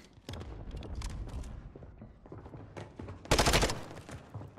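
Gunfire from the Vaznev 9K submachine gun in Call of Duty on Rebirth Island, heard as a dense rapid burst near the end, with scattered game noise and impacts before it.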